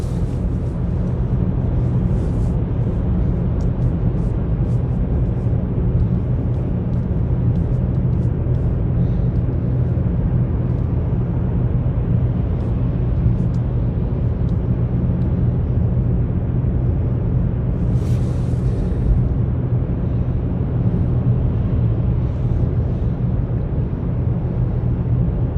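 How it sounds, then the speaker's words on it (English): Engine and road drone inside a Mitsubishi Mirage cruising at 50 mph at night, a loud, steady low rumble that holds constant with no talk. "In this car, for some reason, driving 50 miles an hour, the engine is actually decently loud."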